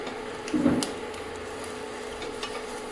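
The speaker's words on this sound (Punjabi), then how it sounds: "ਇਹ ਚੰਗੀ ਤਰ੍ਹਾਂ ਭੁੰਨ ਲੈਣਾ" Carrots, peas and potatoes being stirred in a pan, with a faint steady roasting hiss and a few scraping clinks of a spoon, one louder scrape near the start.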